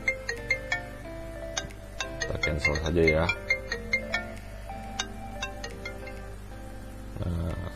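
An iPhone ringtone plays from an incoming call placed by a Royalstar W102 phone, a bright repeating melodic tone pulsing steadily while someone speaks briefly over it.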